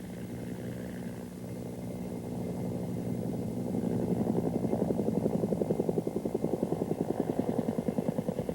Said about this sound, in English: These two Cobras are preparing to dive with only one variable changed, in this case, the power setting